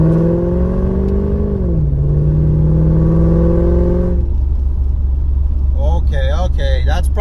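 A Mercedes E55 engine pulls hard close by, a steady droning tone rising then dipping as it shifts, before easing off; a person begins talking near the end.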